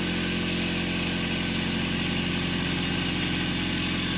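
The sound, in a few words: Adams motor spinning up to speed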